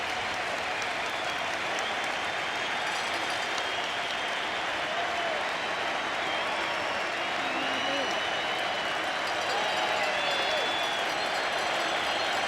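A packed baseball stadium crowd during a tense 1995 playoff game between the Yankees and Mariners roars and cheers steadily, a dense wash of noise that holds throughout, with a commentator's voice faintly beneath.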